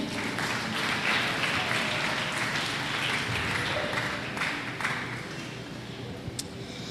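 A church congregation applauds together in a steady, dense wash of clapping that fills the space and carries on throughout, tapering slightly near the end.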